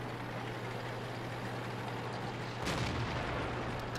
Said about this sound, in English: Fired a lot of shots and that final one got me spotted.